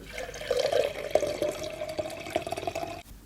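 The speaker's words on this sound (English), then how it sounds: "Now I'm pouring the coconut milk in a glass container." Coconut milk poured into a glass container, a steady liquid trickle running for about three seconds and then stopping abruptly, close and moderately loud with no talk.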